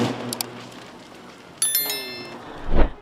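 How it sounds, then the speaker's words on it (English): A short electronic bell chime for a notification rings out clearly, a bright ding with a lingering ring, over a faint background of soft noise and a low thump near the end. "turn on the notification bell."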